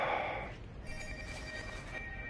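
A telephone rings in Batman: A Telltale Series, a bright electronic ringtone sounding in steady pulses after a brief burst of other noise at the start.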